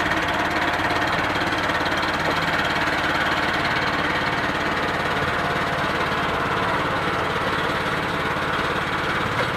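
A homemade mini tractor's small engine runs steadily and close by, giving a continuous, rough, buzzing drone with a knocking pulse that stays at an even loudness throughout, with no voices.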